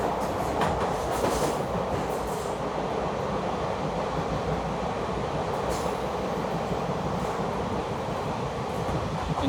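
The Koyna Express runs through a tunnel on the Bhor ghat, giving a dense, continuous roar of wheels and carriages with rhythmic clickety-clack and a few sharp metallic squeals, loud and enclosed throughout.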